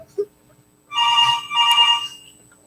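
A telephone rings in two long electronic bursts, loud and close, after a brief quiet moment with a faint click.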